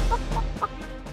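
A chicken in an animated gingerbread man fairy tale clucks in a few quick, close, clipped bursts, with no talking over it.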